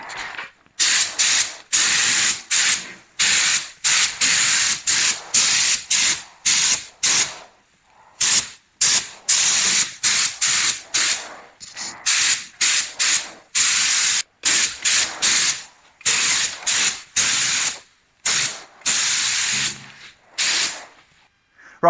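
A spray gun mists a light tack coat of paint onto the lower half of a Vauxhall Nova SR, giving loud, close hissing bursts that start and stop in a rapid irregular rhythm of short passes with brief silent gaps, and no one speaking.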